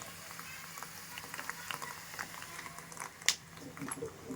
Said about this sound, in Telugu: అలాగే ఆవాలు, జీలకర్ర కూడా చిటపట్లు ఆడుతున్నాయి